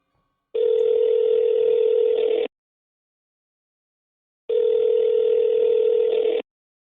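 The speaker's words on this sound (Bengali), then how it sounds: "ওকে বরং একটা ফোন করি।" A telephone ringback tone plays through a handset, two long steady buzzing rings separated by a pause, clear and alone with no talk.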